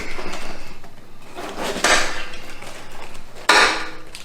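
A knife slices through a cabbage head for sauerkraut, giving two sharp, close cuts that each land on the board. Quieter scraping and handling sounds come between them, and no one speaks.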